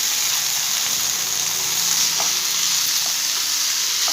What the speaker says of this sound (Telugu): అరటికాయ ముక్కల్ని ఇప్పుడు వేసుకుందామండి ఇందులో.